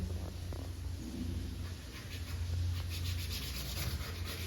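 A good kitchen knife cuts through ice apple (nungu) palm fruit in a village setting, giving a steady rubbing, scraping sound over a low hum, close and moderately loud throughout.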